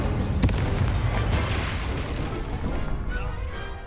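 Incendio fire spell in Hogwarts Legacy, a loud burst at the start followed by a roaring, crackling blast that stays dense and heavy before easing slightly.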